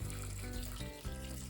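Water runs into a pot for bean soup, a brief steady gushing pour with a short dip in flow, heard alone.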